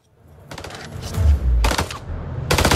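Gunfire in the video game House of Ashes: short bursts of rapid shots, close and loud, separated by brief pauses.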